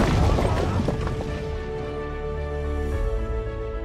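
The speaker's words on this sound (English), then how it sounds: "Feel the walls shake as explosions surround you." Deep booming rumbles and crashing impacts, loud and layered, with a sustained low roar and tonal music-like hum underneath.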